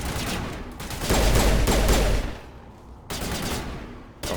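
Dense gunfire from a Mass Effect firefight, rapid bursts of automatic shots loud and close, easing briefly before another volley erupts near the end.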